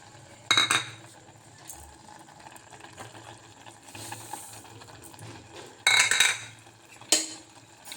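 Semiya payasam being stirred after sugar goes in, several short bursts of a spoon scraping and clinking against the pot amid quiet gaps, close by.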